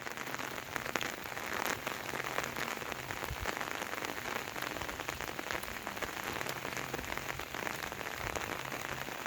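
Steady rainfall pattering on a surface outdoors, a dense continuous hiss of drops at even, moderate loudness throughout, with no voices.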